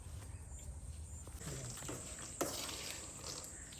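Food frying in hot oil while being stirred, a steady close sizzle with light scraping and a brief clack near the end, faint talk underneath.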